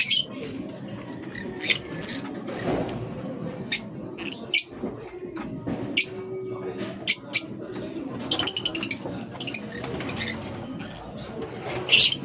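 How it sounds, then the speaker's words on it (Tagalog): Pet parrots of INO and PF colour lines, handled during a harvest of young birds, give repeated sharp chirps and squawks at close range, in scattered bursts over a low background murmur. "So ito mga kaibon."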